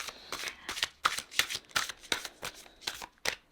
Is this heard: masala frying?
no